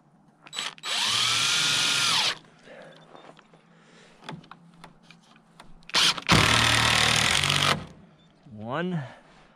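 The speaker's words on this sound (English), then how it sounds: "I'm gonna have to start the screw first." Power drill driving a screw into a workpiece during a home building project, heard as two loud, sustained whirring bursts separated by quiet handling noises, with people talking nearby.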